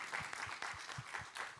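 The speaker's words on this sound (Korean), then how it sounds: "우리 하나님께 감사와 영광의 박수 올려드리겠습니다." Church congregation at a Sunday worship service applauding, faint steady clapping with a few distinct nearby claps standing out in a soft, distant-sounding room.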